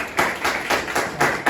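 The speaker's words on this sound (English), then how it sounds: "Clapping for Amdamit." A small group claps for a student after a linear algebra class presentation, a few loose rounds of close, moderately loud hand claps with uneven rhythm.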